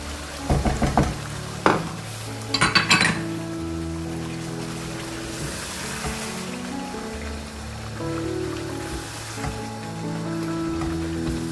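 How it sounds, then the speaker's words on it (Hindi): Fresh cream stirred into a butter chicken masala in a pan, opening with a few sharp spoon clatters and scrapes, then a soft steady low bubbling and stirring that continues close by. "इसको अच्छी तरह आप मिक्स करिए।"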